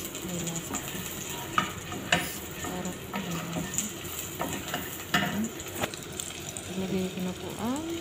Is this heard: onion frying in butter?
yes